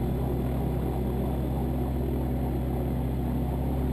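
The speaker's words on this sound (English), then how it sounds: "Starting to engage the rotor, just slowly pulling it" The engine of an autogiro runs with a steady, loud, low droning hum as the rotor is slowly engaged through a clutch-like control, the tone holding constant without pause.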